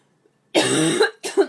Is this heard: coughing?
yes